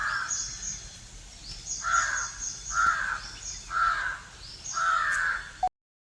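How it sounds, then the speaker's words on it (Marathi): Several crows gather in a tree and caw in a string of harsh bursts, five or six rough calls spaced about a second apart, moderately loud against faint background ambience, with no talking. "रोज या झाडावरती येऊन ना बरेच कावळे ओरडतच बसलेले असतात"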